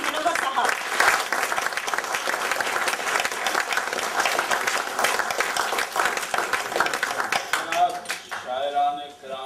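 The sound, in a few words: audience applause at a mushaira poetry night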